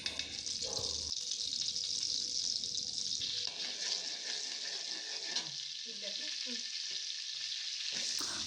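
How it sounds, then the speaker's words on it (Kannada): Steady, dense sizzling of butter in a hot pan, a continuous crackling hiss with occasional faint scraping. "ಇವಾಗ ಇದಕ್ಕೆ ನಾನು ಬೆಣ್ಣೆ ಹಾಕೋತಾ ಇದ್ದೀನಿ"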